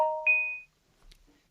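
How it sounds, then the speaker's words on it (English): Mobile phone giving a short electronic beep, a steady tone that rises in pitch partway through and then stops, faint and close, followed by quiet room noise. "Sorry, that's my phone going off."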